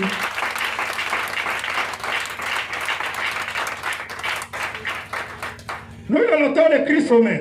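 A church congregation at a Friday evening service claps and cheers loudly for about six seconds, a dense, sustained wash of applause that gives way to a preacher's voice speaking over the fading crowd.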